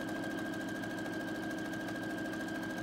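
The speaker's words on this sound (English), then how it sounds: "When I get to the end, I push the back button and it changes directions to sew the end of the buttonhole." A sewing machine stitches a vertical buttonhole for a Pendleton '49er shirt, running with a steady, continuous motor whir and rapid needle chatter throughout, close and even with no talking.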